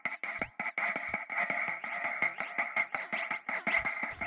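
Glitchy percussion loop with a resonant delay effect whose delay time is being changed, producing rapid stuttering hits and ringing echoes that smear into a steady tonal buzz, played alone and fairly close.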